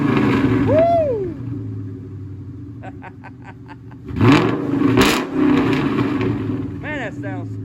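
A 2004 Ford Mustang Mach 1 with the 4-valve V8 idles with a deep rumble, then blips its revs in a couple of sharp rises and falls, with voices speaking over it.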